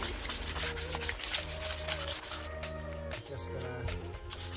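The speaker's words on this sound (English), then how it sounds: "Got some 500 grit sandpaper." Steady back-and-forth rubbing of 500 grit sandpaper on a car surface, close and continuous with a soft, even scratchy texture throughout, no talking over it.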